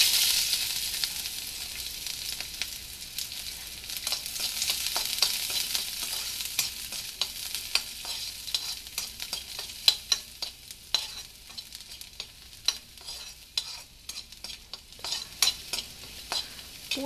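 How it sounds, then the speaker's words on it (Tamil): Garlic frying in hot oil as the tempering for a Tamil brinjal varuval, a steady close sizzle with scattered crackles and stirring scrapes throughout, no voices. "இப்போ நம்ம ஃபர்ஸ்ட் வந்து தாளிக்கிறது இந்த பூண்டை ஃபஸ்ட் போட்டு இதில் தாளிக்கணும்"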